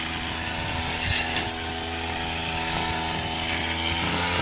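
A grass cutter running continuously while clearing a pineapple field, a loud, steady, buzzing engine whine with slight surges in pitch, close by and without talk.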